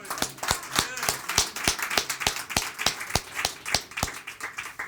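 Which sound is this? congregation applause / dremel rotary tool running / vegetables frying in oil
congregation applause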